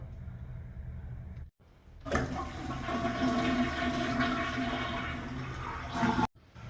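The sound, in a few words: toilet flushing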